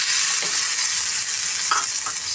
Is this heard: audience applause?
no